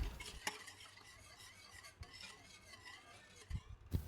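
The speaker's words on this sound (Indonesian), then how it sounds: "Ini aku aduk-aduk kembali hingga tercampur rata." Pandan juice for mossy pandan pudding being stirred in a bowl, a steady soft swishing and scraping with a few sharper clinks of the spoon near the end, close and fairly quiet.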